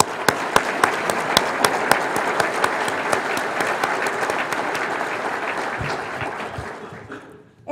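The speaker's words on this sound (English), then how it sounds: "So I think all of us should applaud them on their 75th anniversary." A room full of people applauds a Michigan hospital on its 75th anniversary, loud continuous clapping with a few sharp claps standing out near the front, fading away at the end.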